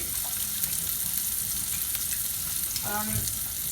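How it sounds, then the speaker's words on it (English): A beef burger patty seasoned with cracked salt and pepper sizzles in a frying pan, a steady dense crackle throughout with a faint brief clink near the end and no talk. "And let that sizzle."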